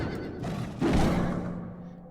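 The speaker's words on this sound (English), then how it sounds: "It also makes angry neighs." An angry horse in the video game Alice Madness Returns lets out a single harsh neigh after a soft thud, fairly close and loud, alone with no talk.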